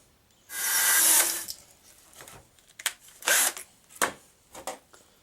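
A power drill boring into cedar wood, stepping up through progressively larger bits: a bright whirring grind of nearly a second, followed by several shorter bursts of drilling and handling clatter, close and alone.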